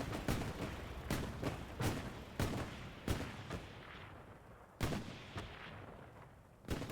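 Gunfire in a first-person shooter match during a no-prep tournament: a string of sharp, loud shots at irregular intervals, some in quick pairs, over a steady background rumble of battle.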